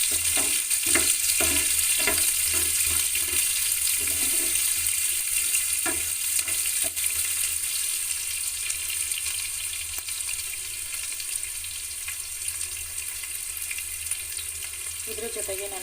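Chopped onions fry in a pan for a hotel-style dosa potato palya, giving a steady, loud oil sizzle with a few soft stirring clicks near the start and no talk.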